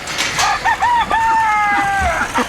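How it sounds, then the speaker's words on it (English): A rooster on a farm crows nearby, one loud drawn-out call rising and then holding a long note, with a few short clucks around it. "And some roosters."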